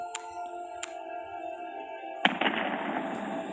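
In a space video game, satellites collide and explode: after a couple of soft electronic tones over a humming background, a sudden burst erupts into a crackling, sustained rush of explosion noise, with no speech.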